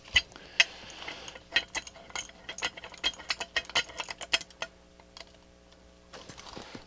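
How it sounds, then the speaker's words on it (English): A bench vise handled and tightened at a workbench during a cassette deck repair: a run of sharp metallic clicks and ratcheting taps, irregular and fairly close, trailing off near the end with no talking. "let me grab my vise. It's easier to work on stuff with when I can hold it."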